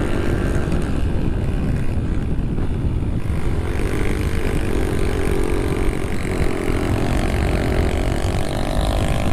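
A 50cc minitrail motorcycle engine revs steadily and close up for the whole stretch, a continuous loud drone with wind rush, no talk over it.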